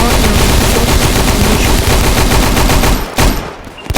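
Rapid, continuous automatic gunfire from a weapon in a Roblox zombie game rattles loudly for about three seconds before cutting off, leaving a few scattered shots.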